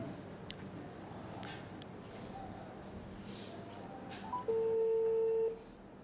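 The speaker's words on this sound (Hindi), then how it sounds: "I am calling." A single steady electronic phone tone sounds for about a second near the end, following quiet room noise and faint background sounds.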